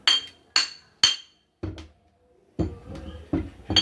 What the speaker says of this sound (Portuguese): eu vou arrancar essa solda aqui para vocês verem com um martelinho